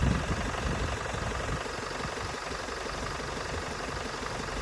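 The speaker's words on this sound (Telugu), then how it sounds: "ఇంజిన్ చిన్నగా ఆడుతుందా? స్మూత్ అయిపోయింది కదా" Vehicle engine idling smoothly after a Sundar Carbon Antidote plus treatment, a steady low rumble with an even hum, no talk over it.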